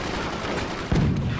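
Weapons fire in the Forts strategy video game: a sudden loud booming volley bursts in near the end, after a steady bed of game noise.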